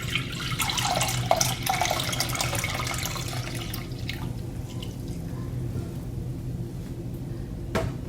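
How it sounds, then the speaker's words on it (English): Nurishment drink poured into a bowl while making Jamaican Guinness punch, a close liquid pour with splashing and dripping for several seconds, tapering to a few trailing drops. "So now I'm just gonna pour my Nurishment in my bowl right here."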